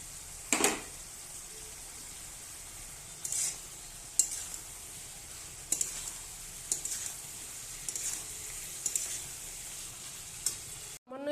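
Pre-fried fish pieces go into a cooked-down spice mixture in a pan, giving a soft continuous sizzle with several sharp scraping and clattering bursts from stirring and handling, fairly quiet overall.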